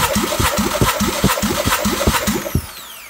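A 2005 Mazda 6 GG 1.8-litre L830 engine cranks on the starter during a compression test, with a rapid, rhythmic chugging of about eight regular beats, close and loud, then winding down.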